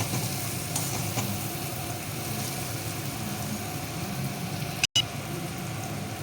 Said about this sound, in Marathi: जरा तेलात चांगला मसाला परतला की मी बाकीचे जिन्नस घालणार त्यात